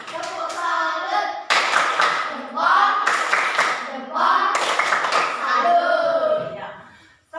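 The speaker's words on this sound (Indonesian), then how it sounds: "Kasih tepuk salut dulu untuk Dek sekarang. Tepuk salut." Indonesian classroom of pupils giving a rhythmic 'tepuk salut' clap in bursts of several claps, close and loud, with children's voices chanting along between the clapping patterns.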